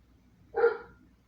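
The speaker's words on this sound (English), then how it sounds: "That'll be my dog." A single short dog bark sounds in a quiet room, moderately loud and brief, with no other sound around it.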